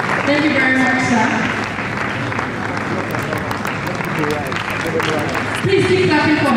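Audience at a leadership conference keeps clapping for a speaker, steady applause running underneath voices that talk over it at the start and end.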